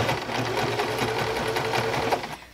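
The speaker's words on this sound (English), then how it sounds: "the only reason I'm really doing this right now is to kind of baste the layers together" A sewing machine runs fast to baste layers of a cloth period pad together, giving a steady, close, rhythmic whirring stitch throughout with no break.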